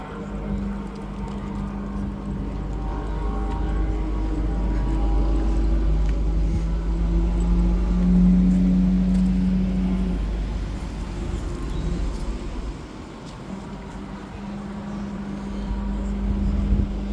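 A Lotus Emira race car passes at the Spa 24 Hours, its engine note rising as it approaches and sweeping through before fading, all under steady low rumble and crowd ambience.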